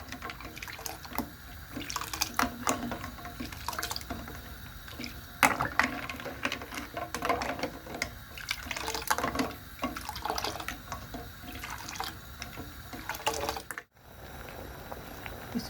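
Ice-cold water poured into a pot of tea leaves while making Kashmiri pink tea, a continuous splashing trickle with small drips, fairly close and moderately quiet, briefly cutting out near the end.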